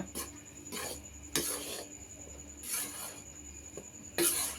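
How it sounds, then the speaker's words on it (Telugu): A spoon scrapes rhythmically through wheat flour roasting in ghee in a pan, about five soft stirring strokes over a faint low sizzle. "చూడండి ఆపనే లేదు కలుపుతూనే ఉన్నాను"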